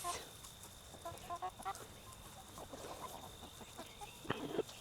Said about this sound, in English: What are you clucking at, huh?